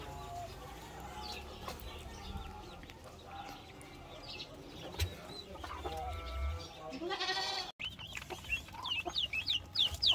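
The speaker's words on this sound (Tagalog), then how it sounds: "bumili po tayo ng 10 broiler chicken" Broiler chickens in a farmyard clucking and cheeping, scattered close calls over a low background, with brief louder bird calls toward the end.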